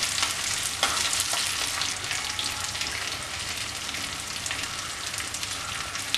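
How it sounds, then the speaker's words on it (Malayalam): Fish frying in hot oil while being turned, a loud, close, steady crackling sizzle like heavy rain with a few sharper pops, continuous and with no talking. "ഇതിൻ്റെ ഓരോ സൈഡും മറിച്ചും തിരിച്ചൊക്കെ ഇട്ട് വേണം ഫ്രൈ ചെയ്തെടുക്കാനായിട്ട്"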